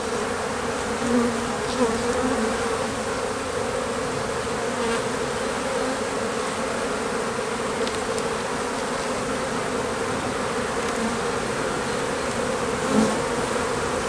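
Honey bees buzz continuously during a quick beehive inspection, a dense, loud, steady hum from a swarm close by, with no talking.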